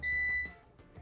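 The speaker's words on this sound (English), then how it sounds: "that beeping sound is the exact same beeping sound that you hear whenever it's done" A Power Air Fryer signals it has finished cooking with a steady electronic beep tone for about half a second, followed by faint quieter blips; close and clear, no voices.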